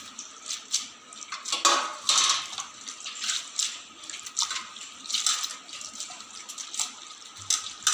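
Fresh coriander leaves with their soil-caked roots being rinsed in a bowl of water for the third time, giving close, steady splashing and sloshing with bright bursts of agitated water, no voices.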